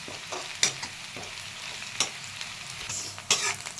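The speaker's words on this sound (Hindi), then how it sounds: "गोल्डन ब्राउन हो गया है प्याज, अच्छी तरह से भून गया है। थोड़ी देर और भूनेंगे।" Onions sizzle as they fry to golden brown for paneer do pyaza, with a soft continuous hiss broken by a few sharp stirring scrapes, close by and without voices.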